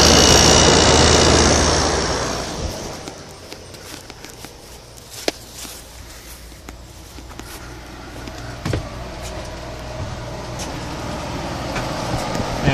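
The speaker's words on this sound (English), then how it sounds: "There's a compressor." A 1970s GE Slumberline air conditioner's compressor runs, a loud broadband roar at first that settles into a steady low drone with scattered clicks and knocks, close up with no talk.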